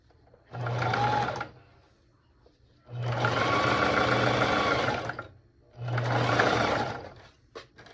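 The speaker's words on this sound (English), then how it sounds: "And I'm using a zigzag stitch." Domestic sewing machine running a zigzag stitch on a circle skirt, three distinct bursts of rapid whirring and needle chatter, close and loud, separated by short pauses.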